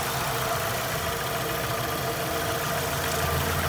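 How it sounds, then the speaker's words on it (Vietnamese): A 2003 Daewoo Lanos SX with electronic fuel injection idles smoothly, a steady, even engine hum at moderate level with no misses, heard alone. "Máy nổ êm ru."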